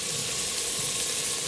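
Spices for a tadka sizzle in hot oil while a traditional Cholistan curry is cooked. The hiss is close and constant, a short burst of frying with no speech.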